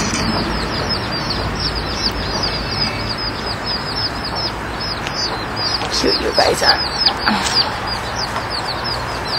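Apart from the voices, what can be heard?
hen chicken clucking with her chicks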